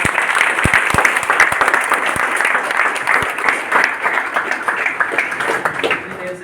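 A large audience claps loudly and steadily for several seconds, dense overlapping applause filling the space, with some voices faintly mixed in.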